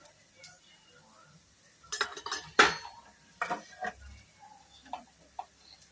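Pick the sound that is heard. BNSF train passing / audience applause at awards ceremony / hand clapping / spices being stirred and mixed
spices being stirred and mixed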